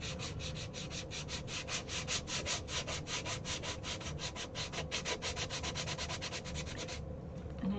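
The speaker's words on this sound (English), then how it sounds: "And I just sanded it off" A power sander works over a dry surface in a fast, even rhythm of rasping strokes that stops near the end, close and fairly quiet.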